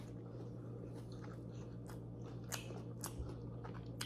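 Crisp bites and chewing of a fried okoy mushroom fritter, a few crunchy bursts close to the mouth over a steady low background hum, with no talking.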